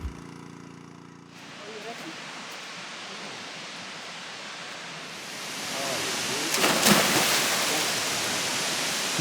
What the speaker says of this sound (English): that the noise you hear in the background is a water pump